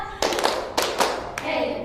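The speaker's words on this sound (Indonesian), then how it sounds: "Tepuk dua." A group of students in a classroom counseling game claps hands together on cue, several sharp, fairly close bursts spaced out over two seconds, with no talking between them.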